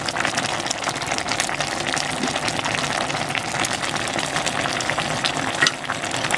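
Bitter gourd (ampalaya) going into a pan of abraw (inabraw/dinindeng vegetable dish), with a steady, close, loud frying sizzle and crackle running throughout, no talking.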